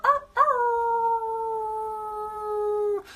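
A human voice imitates a wolf howl, one long sustained tone that swells after a brief opening yelp and holds steady for nearly three seconds, loud and close with no talk.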